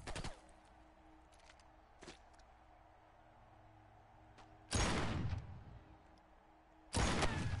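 A giant gun fires in a video game, with two loud, sustained bursts of heavy fire after a sharp shot at the start and a few faint clicks and thuds in between.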